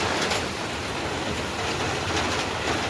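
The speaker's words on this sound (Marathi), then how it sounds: "चालूच आहे अजून पाऊस" Dense, even hiss of rain falling steadily, a broad wash of sound with no voices or distinct events.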